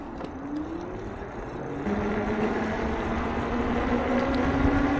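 Engwe X26 1000-watt e-bike riding on throttle alone in sport mode: a steady electric motor whine climbs in pitch as it accelerates, layered over constant rushing wind noise.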